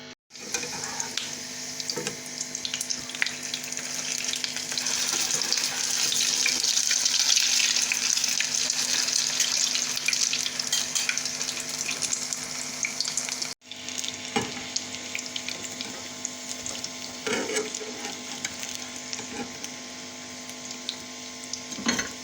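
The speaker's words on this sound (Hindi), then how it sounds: "बहुत हल्के फ्लेम पे हमने इनको फ्राई करना है।" Chicken kebabs fry in gently heated oil over a very low flame, giving a steady, dense sizzle and crackle that holds throughout, briefly broken by a cut partway.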